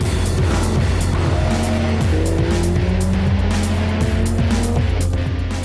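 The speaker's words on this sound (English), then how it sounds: "the silky smooth V12 is a delight with spontaneous acceleration and massive torque" Aston Martin Vanquish V12 on the Hockenheimring race track, loud and close, with repeated engine revs rising and falling through braking and hard acceleration, plus gear shifts and a steady roar throughout.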